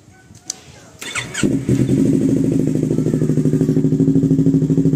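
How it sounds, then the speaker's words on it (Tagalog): A Yamaha R3 motorcycle fitted with a Yoshimura Alpha exhaust cranks after a couple of clicks, then fires up and settles into a loud, steady, rhythmic idle burble close by. "Start natin si engine"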